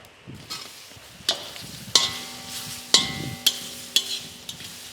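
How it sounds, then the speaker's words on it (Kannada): Chopped ash gourd tipped into a pan of crackling mustard seed tempering, with sharp metallic scrapes and clatters of a spoon against the pan at a steady pace under a low sizzle. "ಇದು ಅರ್ಧ kg ಬೂದುಗುಂಬಳಕಾಯಿನ ಹಚ್ಚಿಟ್ಟು ತೊಳೆದಿಟ್ಟಿದ್ದೀನಿ, ಇದನ್ನು ಹಾಕೋಣ."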